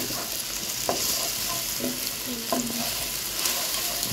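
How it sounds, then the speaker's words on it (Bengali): An egg seasoned with pepper and salt sizzles in hot oil as it is scrambled, with a constant frying hiss and a few quick scraping stir strokes. "তেল দিয়ে নিয়েছি, এখন ডিমটাকে ঝুরা করে নেব।"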